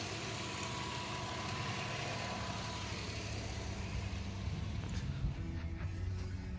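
A Subaru engine idles steadily while warming up, waiting for the thermostat to open; a continuous close, low rumbling drone with even vibration throughout and no talk.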